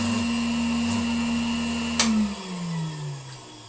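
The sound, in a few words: vintage Bylock table vacuum cleaner running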